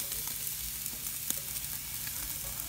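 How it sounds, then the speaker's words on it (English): Chuck steaks sear on a hot grill with a steady, dense sizzle and faint crackles and pops throughout, no voices. "Let's get to searing some meat."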